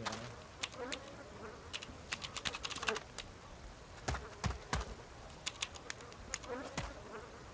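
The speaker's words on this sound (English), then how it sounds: "I'm gonna type in chat." Quick bursts of keystrokes clatter on a PC keyboard during a DayZ gaming session, irregular clusters of close, crisp taps with short pauses between.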